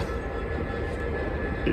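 Class 390 train running between Rugby and Coventry, heard from on board as a steady, loud low rumble and hum of the moving carriage, continuous with no talk.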